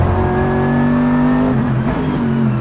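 A Mercedes-AMG GT3 race car engine pulls hard on the JunChi circuit, a loud, close, sustained growl that climbs steadily under full power with no pause.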